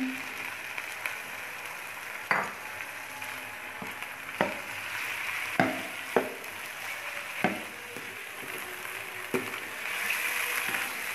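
Half a kilo of chicken sizzling steadily in a pan with garlic and ginger, browning as it cooks, with sharp clacks from stirring at irregular intervals over the constant frying hiss.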